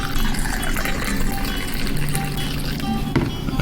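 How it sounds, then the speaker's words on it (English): Irish cream being poured into an oversized shot glass, a steady trickling, filling pour with faint background noise and no talk. "Would you like me to pour your oversized shot glass right now?"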